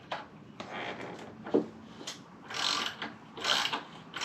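Ratcheting clicks from a wrench tightening a bolt while motorcycle frame sliders are fitted, in short close bursts of rapid clicks separated by pauses.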